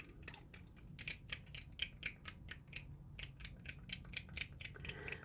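A spoon stirs a drink or mixture in a glass, a rapid run of close, faint clinks and scrapes against the sides, repeating irregularly with no talking.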